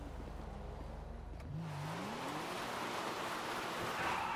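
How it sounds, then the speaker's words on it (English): Engine roar from a car doing burnouts in GTA V, a steady wash of revving and tyre noise that swells and stays loud after a rising pitch sweep, with no talk. "Stop the fucking burnouts!"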